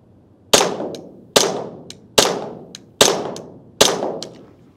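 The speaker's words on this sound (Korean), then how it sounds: "탄창을 바꾸고, 먼저 하나 쏘고." Five sharp, loud shots from a TTI XR Combat Master gas airsoft pistol, evenly spaced about a second apart, each a crisp pop with a brief metallic ring and a faint tick just after, in a quiet room.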